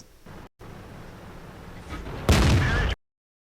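Tank gunfire in a video game: a muffled rumble cut by a short gap, then a loud, harsh burst of firing that stops abruptly into silence.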